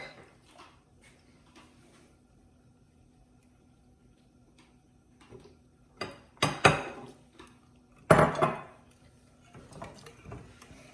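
A spoon stirs rice pudding made with whole milk in a pot. Long quiet stretches are broken by a few soft scrapes and two sharper clanks against the pot toward the end.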